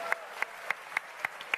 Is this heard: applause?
yes